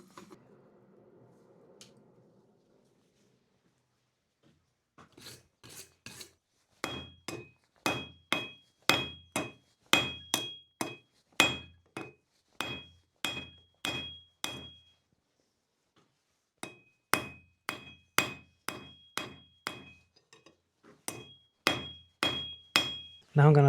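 A blacksmith hammers hot steel into a pointed taper for dragon horns on a hand-forged candle holder, ringing out in two long runs of loud, evenly spaced metallic blows separated by a brief pause.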